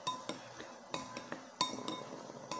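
A utensil stirs Indomie instant noodles cooked in a microwave, making sharp metallic clinks and scrapes against the bowl at an irregular pace, close and fairly loud, with no talking.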